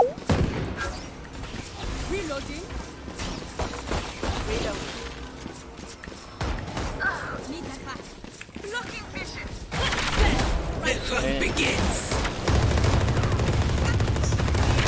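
Odin machine gun fire in the Valorant video game: loud, dense automatic bursts and mechanical clatter run through most of the stretch with game effects mixed in, and people talk over it.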